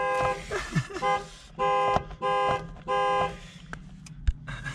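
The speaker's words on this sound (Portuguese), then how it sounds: "Então, ó, vamos buzinar." A Mustang convertible's horn sounds three long, loud blasts in an evenly spaced series, each held about half a second, followed by a couple of brief clicks.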